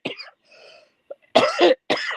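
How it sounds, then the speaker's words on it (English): A few harsh coughs from someone nearby, a couple of short bursts after a quiet throaty start, with brief gaps between them. "I'm going to start coughing now."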